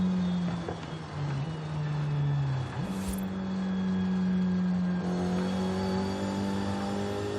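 Alfa Romeo 155 engine in Forza Horizon 5, a sustained droning tone that dips and climbs with gear changes and revs while the car drives, steady and fairly loud with no talk.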